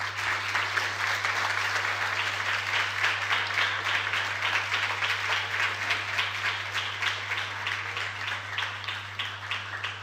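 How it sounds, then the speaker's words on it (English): Summit attendees give the president of Montenegro a long round of applause, a thick, steady wash of clapping with a low electrical hum running underneath throughout. "a very well-deserved round of applause for the president"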